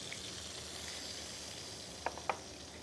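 Beef smash burger patty sizzling steadily on a hot griddle as it is pressed down, a continuous soft frying hiss with a couple of brief sharper crackles near the end, no talking.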